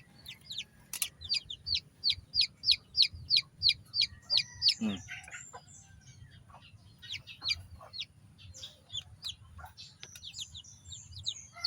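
Nine newly hatched chicks peep in a rapid run of high, evenly spaced chirps, then scattered peeping continues over a low hen murmur.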